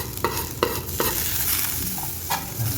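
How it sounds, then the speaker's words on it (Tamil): Chicken roll snacks deep fry in hot oil, a close, steady bubbling sizzle broken by a few sharp clinks or stirring scrapes. "இந்த மாதிரி ஃப்ரை பண்ணுங்க நண்பா"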